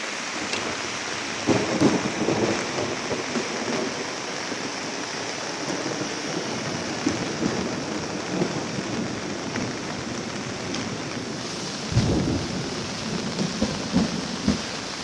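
Heavy rain pours without pause during a flood in Sinop, with low rumbles of thunder rolling in now and then beneath the dense, even hiss of the downpour.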